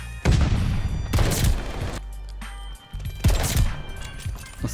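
The Snoop Dogg weed gun in Call of Duty fires a handful of heavy, booming shots in quick bursts, each with a thick low thump and crackling tail, loud and close with no voices.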